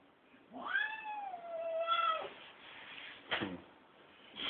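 A cat lets out a long, wavering meow, followed by a sharper, shorter cry and a faint trailing call, fairly quiet against a soft background.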